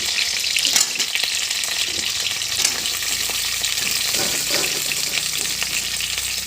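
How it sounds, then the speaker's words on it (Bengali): Mixed vegetables and potatoes fry in a pan with a steady, even sizzle. The hiss stays close and continuous throughout, with a few soft clatters. "এবার সবজিটা দিয়ে দিব"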